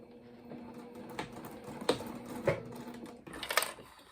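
Sewing machine stitching two layers of cotton around curves on a reusable napkin: quiet, uneven mechanical whirring in short bursts with sharp clicks and knocks, close and alone.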